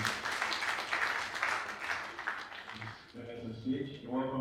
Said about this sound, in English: Round of applause for Dr. Garba.